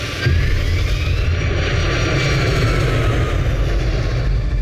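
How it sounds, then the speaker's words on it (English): An airliner, Cactus 1549 in the film Sully, takes off from runway 4 with a loud, sustained jet engine roar and deep rumble that holds steady from start to finish, with a thin whine above and no talking. "Cactus 1549, runway 4, clear for takeoff"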